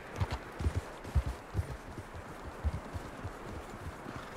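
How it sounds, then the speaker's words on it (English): Horse hooves in Red Dead Redemption 2 clip-clop at a slow walking rhythm in a snowstorm, fairly near and moderately loud over a low windy background, with no speech. "And I still get to ride the horse."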